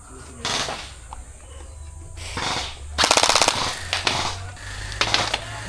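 Rapid bursts of gel blaster fire during close-quarters gameplay, quick rattling volleys of shots in short strings, loud and close, separated by brief pauses.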